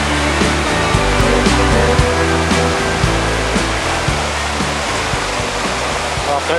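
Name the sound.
waterfall rushing in a canyon in Samar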